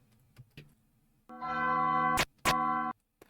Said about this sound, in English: I like how I paused the church bell when Sans teleports